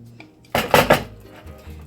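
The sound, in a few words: mixing pinto bean cornbread batter with pork rinds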